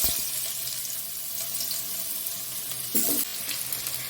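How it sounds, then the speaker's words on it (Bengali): Diced potatoes frying in hot oil in a pan, a steady broadband sizzle throughout with a brief louder burst of spattering near the end, close and alone with no voices. "এবার আমরা আলু ভেজে নেব। আমি দিয়ে দিচ্ছি ডুমো ডুমো করে কাটা আলু।"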